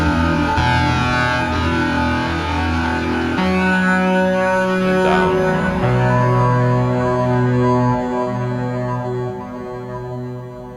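A dense music texture sample from the MIRAGE kit, pitched down seven semitones, forms a loud, thick wash of layered sustained tones with shifting low notes, easing slightly toward the end.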